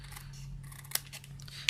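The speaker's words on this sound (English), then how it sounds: "So let's just trim that piece off." Scissors trimming a piece of card in a papercraft setting: a couple of short, crisp snips close by, with a faint steady hum underneath.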